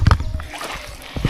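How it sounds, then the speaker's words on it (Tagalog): Water thrown out with a tabo dipper at a campsite splashes in a brief, close, sloshing burst, with a softer splash right after and a voice nearby. "ginagamitan ng tabo, tinatapon yung pati yung tubig"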